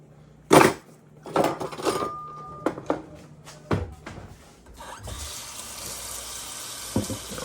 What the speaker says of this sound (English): Rinse out the spoon